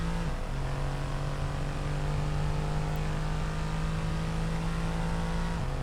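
An F1 race car engine in the video game F1 22 holds a steady high-pitched drone at around 130 mph, with a brief pitch drop at the start and another near the end, loud and continuous with no talk.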